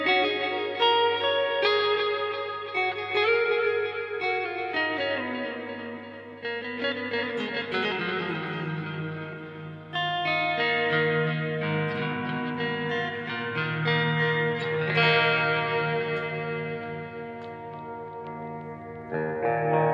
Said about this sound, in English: So that's with a modulation on both the reverb and the delay.